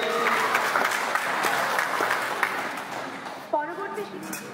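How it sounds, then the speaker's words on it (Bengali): An audience claps together at a cultural tribute event, sustained applause of moderate loudness with a voice speaking over it near the end. "সবাই একটু জোরে হাততালি নিয়ে"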